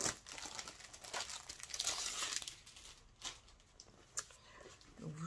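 Plastic packaging of a scrapbooking kit is opened and crinkled close up, with quick rustles, crackles and a few sharp tearing bursts in an otherwise quiet room.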